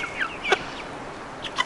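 Chickens clucking close by, a few short bursts of clucks and squawks with quiet gaps between them.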